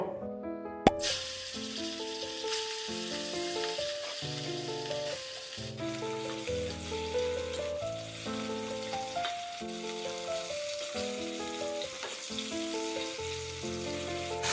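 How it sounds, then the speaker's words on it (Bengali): Hilsa fish sizzles gently in mustard oil, a soft continuous crackle beneath a steady background melody, with a sharp clank near the start. "এখন মাছগুলোকে আমি হালকা করে ভেজে তুলে নেব"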